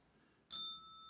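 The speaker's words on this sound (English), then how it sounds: "Small bell for unsure." A small bell rings once, a bright clean ding that starts abruptly after a quiet pause and rings on with a sustained, slowly fading tone, alone and without any voices.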